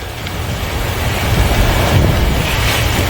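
Strong wind roars steadily across the microphone, a constant rushing bluster with low rumbling buffets and no voices.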